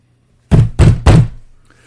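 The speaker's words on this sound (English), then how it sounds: "My mother knocked on the door." Three firm, evenly spaced knocks on a door ring out close and loud, each a heavy thud, followed by silence.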